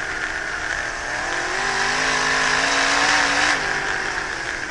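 Race cars powered by fuel-injected 360 Chevy engines running on methanol roar past, with rising and falling revs over several seconds of loud, continuous engine noise at a race track.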